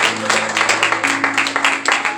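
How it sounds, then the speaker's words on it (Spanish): A church congregation applauds together in a dense, steady wash of clapping over a sustained musical tone, loud and close. "vamos a darle un aplauso al Señor"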